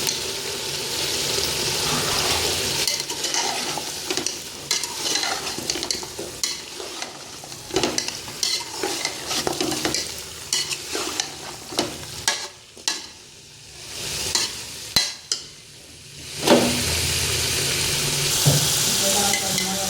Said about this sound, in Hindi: मैंने आलू आधा किलो काट के रखे हुए थे, अब इनको भी साथ भून लेंगे